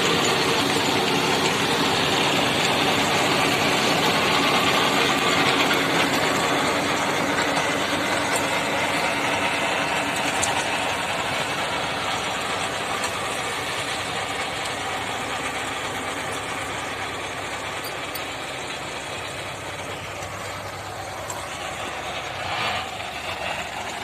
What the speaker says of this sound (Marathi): रान सगळं वाळलंय त्यामुळे रोटर छान होतंय